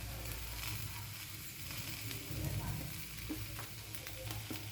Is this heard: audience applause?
no